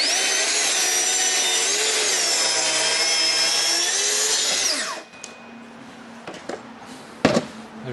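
A Festool TSC-55 plunge saw running on a guide rail, cutting through wood for a square crosscut; a loud, steady whine with no talk that winds down near the end, followed by a few faint knocks and clatters.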